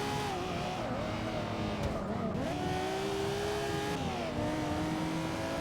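A Nissan Skyline GT-R, the 2002 R34, in the racing game Forza Motorsport 6, its engine droning steadily and loudly throughout with rising and falling pitch as it shifts and accelerates, with faint talk underneath.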